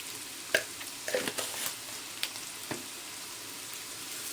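Onion sautés with salt in a pan, a soft steady sizzle broken by a handful of light scrapes and stirring taps, fairly quiet and close.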